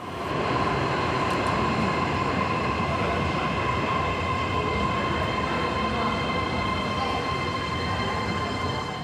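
A subway train at a new metro station in Taiyuan, China, with a steady loud rumble of wheels and motors and a thin whine held throughout, no talk over it.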